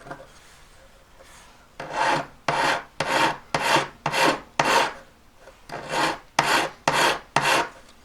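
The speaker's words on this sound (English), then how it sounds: "I've got to file in quite a lot before these corners are going to look good" A hand file works the metal edge of an emerald cut bezel setting, with a brief quiet lead-in followed by about a dozen close, loud, evenly spaced rasping strokes in a steady rhythm.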